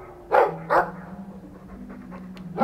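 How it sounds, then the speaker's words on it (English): A dog in the video game Dragon Age II barks twice in quick succession, then gives a third bark near the end, fairly close and loud, over a steady low hum of game ambience. "Gotta love that dog."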